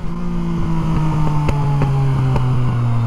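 A motorcycle engine in a racing video game revs and accelerates loudly, its steady droning pitch climbing while brief glitchy clicks punctuate the tone, with no talking over it.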